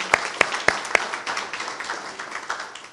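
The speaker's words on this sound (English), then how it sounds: "We can give them another round of applause." An audience claps for Scout Troop 487 at a Boy Scouts of America award ceremony, opening with a few sharp, loud individual claps and then settling into a steady, dense patter of applause.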